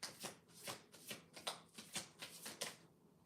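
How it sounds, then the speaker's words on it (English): A deck of oracle cards is shuffled by hand in about nine quick, close, papery bursts of riffling at a brisk, uneven rhythm, fairly soft, with no talking. "Let's shuffle a little more, shall we?"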